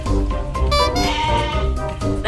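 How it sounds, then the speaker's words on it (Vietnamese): A goat at a zoo bleats in loud, wavering calls, close and continuous, with overlapping cries filling the short stretch. "Dê này đang ra xin của em Cam đấy"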